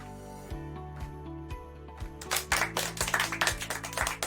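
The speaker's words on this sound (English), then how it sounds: "let's give a resounding virtual applause to Dr. Gasparin." Scattered applause from an online conference audience builds in the second half, quick overlapping claps at moderate level over a faint steady tone and a soft repeating beat.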